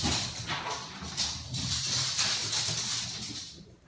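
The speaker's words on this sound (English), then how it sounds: "don't mind the dogs" Dogs indoors make soft yips and whimpers with faint bow-wow sounds, a restless, uneven stream of small noises lasting the whole stretch at moderate-to-low level, with no speech.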